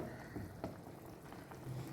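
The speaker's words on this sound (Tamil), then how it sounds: "நம்ம நல்லாவே ஒரு 5 minutes அதை நல்லாவே கொதிக்க விடலாம்" Soft, steady bubbling of a pot of crab soup with crushed crab on the boil, quiet and close, with small pops scattered through.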